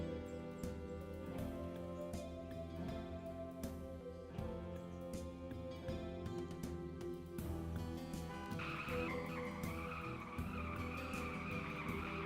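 Within a Unity penguin video game, a car skids with a sustained synthetic tire screech over a rough engine drone, rising in pitch near the end and heard fairly quietly.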